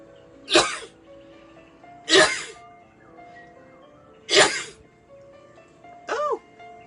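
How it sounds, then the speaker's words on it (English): Four close, sharp sneezes spaced a couple of seconds apart, the last one smaller and more voiced, over a quiet room with faint background music. "Oh, I'm gonna sneeze, excuse me."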